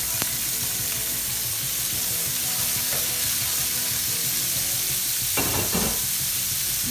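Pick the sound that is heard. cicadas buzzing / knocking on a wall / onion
onion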